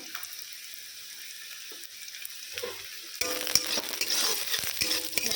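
Garlic sizzles gently in oil, then the frying grows louder and busier partway through, with faint stirring clinks and no speech.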